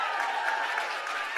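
Brief, steady clapping from a summit audience, a dense even patter lasting a second and a half with no pauses.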